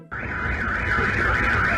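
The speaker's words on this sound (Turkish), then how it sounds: "Bütün mahallenin arabalarının alarmları çalıştı." Car alarms across a neighbourhood blare together in a loud, continuous, warbling electronic wail that starts abruptly and holds steady.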